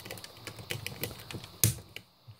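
Zip ties being cut off a four-foot high-security cable bike lock with a resettable five-digit combination: a string of small close clicks and snips, ending in one sharp, louder snap, with no voices.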